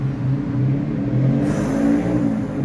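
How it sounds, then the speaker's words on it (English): A loud small motorcycle passes nearby, its engine revving and whirring as a steady mid-pitched drone that rises slightly as it goes by. "There's a loud little motorcycle there."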